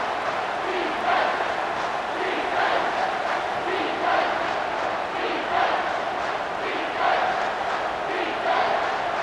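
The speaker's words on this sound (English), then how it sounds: "And the crowd coming to life here, trying to help this defense down in the red zone." A stadium crowd roars in a College Football 26 game between Grambling and FAMU, a steady sustained cheer swelling in regular waves, with no talk over it.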